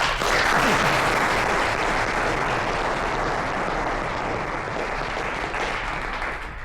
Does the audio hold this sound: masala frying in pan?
no